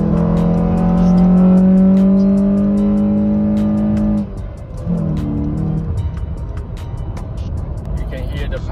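A Honda Odyssey RC1 fitted with an iDrive throttle controller kicks down on the highway, the engine droning loud and steady under acceleration, then easing off as it shifts and settles into road noise.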